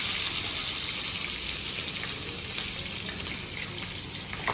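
Onion, green chili and tomato frying in a pan give a steady, loud sizzling hiss that continues without a break.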